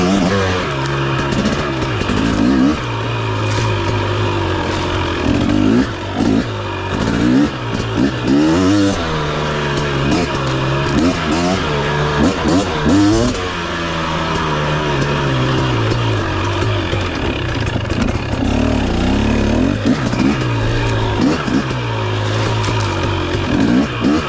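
A 2023 KTM 250 XC two-stroke dirt bike rides off-road through woods over logs and around trees, its engine revving up and down loudly and continuously with rising and falling pitch as the rider works the throttle.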